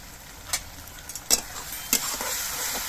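Turmeric and Kashmiri chilli powder sizzle in hot oil for a Bengali tilapia curry, with a steady frying hiss broken by three or four sharp stirring scrapes, close and moderately loud, no talking.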